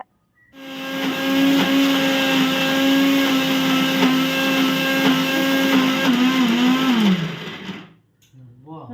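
A mixer grinder works lentil batter for masala vada, a loud continuous motor whine near the mic that runs for several seconds, shifts pitch slightly and then spins down and stops, with voices talking over it.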